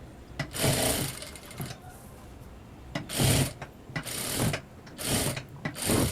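A sewing machine stitches blouse cloth in short bursts of rapid mechanical whirring and clatter, several runs separated by quiet pauses, close and fairly soft, with no talk over it.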